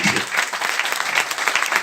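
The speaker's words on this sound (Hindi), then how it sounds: "ताली बजा दीजिए।" Dense, steady applause from an audience at a sales talk, loud and continuous throughout with no break.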